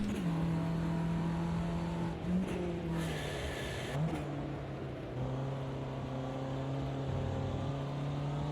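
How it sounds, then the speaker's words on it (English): A Ginetta G40 race car engine in Automobilista 2 at Brands Hatch, holding a steady drone that drops and rises through several throttle blips and gear changes, close and continuous throughout. "I'm blipping the throttle"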